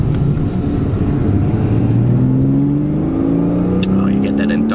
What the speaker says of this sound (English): there is a joy to having this sort of whirring, lovely flat six behind you